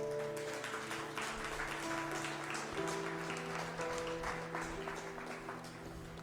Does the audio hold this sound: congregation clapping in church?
yes